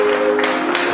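Congregation applauding during a ministerial consecration service in a church, a brief, steady wash of clapping from many hands filling the room, with a sustained tone running underneath.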